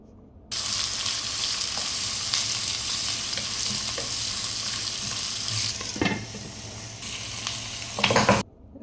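Onions, green chillies and curry leaves fry in hot oil for a mutton bones curry, a steady loud sizzle with occasional stirring scrapes and clinks near the end.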